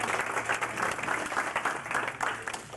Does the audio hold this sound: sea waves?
no